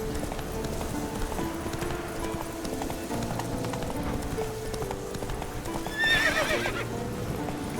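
A horse's hooves clip-clopping in The Witcher 3: Wild Hunt, a steady soft trot under game ambience, with a short whinny near the end.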